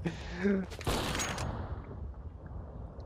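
A burst of video-game gunfire crackles in a quick cluster of shots, loud at first and then trailing into a noisy decaying tail, with a male gamer's voice speaking over the start.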